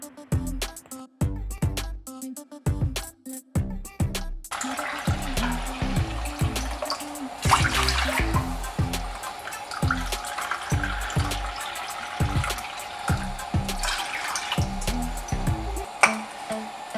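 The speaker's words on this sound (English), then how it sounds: "I'll pour 3 cups of water and 1 cup of sugar." Three cups of water and a cup of sugar go into a pot for syrup in a home kitchen, with a steady, fairly loud pour and splashing running for many seconds after a few short clunky sounds.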